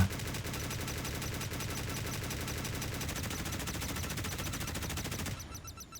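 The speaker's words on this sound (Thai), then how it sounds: "เรายิงปืนกลก่อนดีกว่า" Rapid, continuous automatic machine-gun fire from the naval video game Modern Warships rattles on for several seconds at steady loudness, then cuts off into a brief electronic chime near the end.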